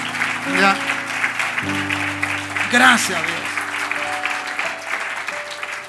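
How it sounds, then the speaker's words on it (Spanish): A church congregation applauds in a sustained, dense wash of clapping over steady music, with a voice speaking across it. "Dale un buen aplauso al Señor."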